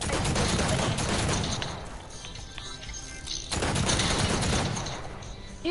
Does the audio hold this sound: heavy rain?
no